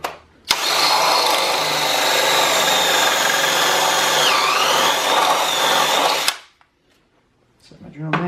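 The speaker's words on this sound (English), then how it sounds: "you just make sure you start drilling before you press the bit up against the wood" A power drill bores into wood while building a coffee table, running steadily and loudly for about six seconds before stopping, followed by quiet and a bit of handling noise.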